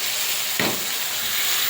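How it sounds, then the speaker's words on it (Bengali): Green chilli, garlic and ginger paste hits a pan of onions fried until reddish for a chicken curry, giving a sudden sizzling burst over the steady background hiss of frying, fairly quiet and brief, with no talking. "এবারে পেস্ট করা কাঁচা লঙ্কা আর রসুনটা দিয়ে দেবো, আর দিয়ে দেবো আদা বাটা"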